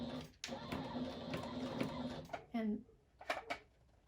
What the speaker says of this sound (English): just going to sew off this corner right here